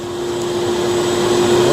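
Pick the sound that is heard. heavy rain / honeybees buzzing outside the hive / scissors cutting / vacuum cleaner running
vacuum cleaner running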